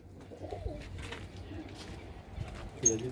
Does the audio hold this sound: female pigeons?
yes